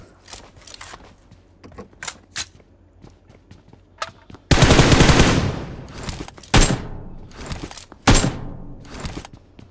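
PUBG Mobile gunfire played on an iPad Pro: scattered single shots and clicks build into a long loud burst of automatic fire, then two more sharp volleys, close and punchy.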